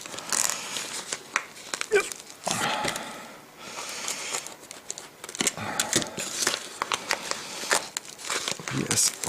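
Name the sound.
opening a padlock package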